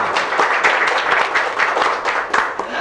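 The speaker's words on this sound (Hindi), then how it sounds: "हाँ, तालियां बजाइए भाई।" A short burst of steady audience applause in a comedy scene honouring two heroes, close and fairly loud with a few sharper claps standing out.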